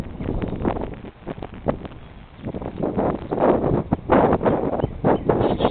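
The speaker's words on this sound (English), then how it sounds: "I know it's windy" Gusty wind buffets the microphone outdoors beside an open top bar hive, rising and falling in loud irregular rushes with rustling bursts throughout.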